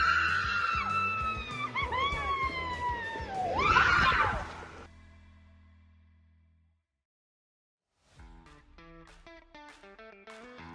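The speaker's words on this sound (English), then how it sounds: "this ride was very scary at night, so be prepared for screams" Riders scream on the Ray Rush water slide at Aquatica at night, loud wavering shrieks over processed music that build to a peak and cut off. After a silence the music returns.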